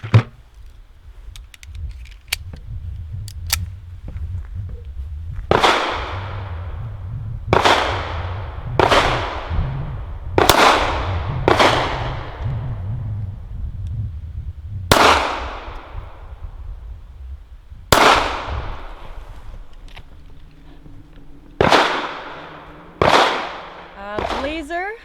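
A new-production Walther PPK/S pistol fires steel-case 91-grain ammunition, about nine sharp, loud cracks at uneven intervals with ringing decay between them, over low background noise.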